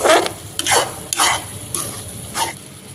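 A spoon stirs a sabudana laddu mixture in a pan, with about five separate scraping sweeps spaced roughly half a second apart, close and fairly loud over a low background.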